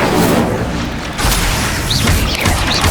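A loud, dense burst of roaring fire from the Incendio spell in Hogwarts Legacy, a continuous crackling whoosh with booming low rumble filling the moment, without spoken voices.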